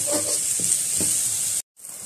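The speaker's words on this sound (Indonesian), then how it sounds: "Kita tumis sampai dia kuning." Aromatics sautéing in a pan until golden while cooking steamed empurau fish, a steady bright sizzle with a few soft stirring knocks, cutting off abruptly near the end before resuming.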